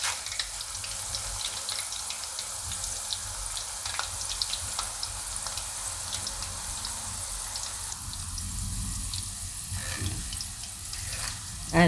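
Moong dal fries in hot oil until crisp, a steady close bubbling sizzle that continues throughout with faint background sounds.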